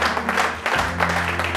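A church congregation applauds together during a sermon, a steady wash of clapping hands filling the room for a moment without a voice over it.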